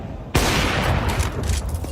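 Gunfire in a Counter-Strike esports match, a sudden loud burst after a quiet start, followed by a sustained crackling volley and scattered shots.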